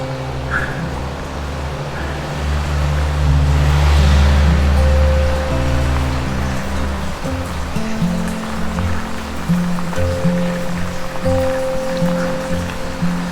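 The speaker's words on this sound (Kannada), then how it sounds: "ಫೈನಲಿ ಮಳೆ ಬಂದಿದೆ" Steady rain pours down during a monsoon drive through Bisle Ghat in the Western Ghats, a continuous hiss layered over the low rumble of the moving car, loud and close throughout.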